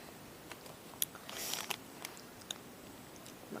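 Someone bites and chews mak kabok fruit close to the microphone, producing soft wet crunches and a few sharp bites against a quiet background.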